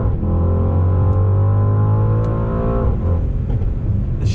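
2021 Mercedes AMG GLE 63 S accelerating on throttle, a loud, deep engine drone climbing steadily in pitch before dropping at a shift, heard from inside the cabin.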